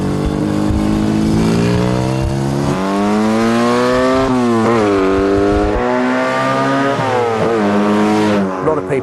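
Elva race car with a tuned, ported and balanced 1000cc BMC A-series Mini engine, revving hard and close through rising gear pulls, a loud continuous rasp climbing in pitch, easing briefly and climbing again.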